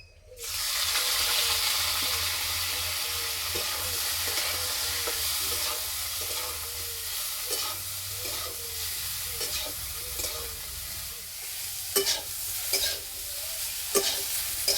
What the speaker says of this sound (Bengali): এবারে কপিগুলো ভেজে নেব।